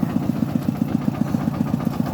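A tractor engine runs steadily close by on a farm track, its fast regular low chugging pulsing evenly throughout with no voices over it.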